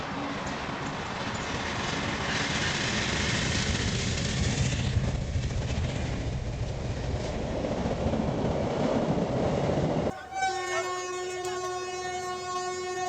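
Two trains run side by side with a loud rolling rumble and rattle of rail cars, then a sudden sustained horn blast sounds near the end.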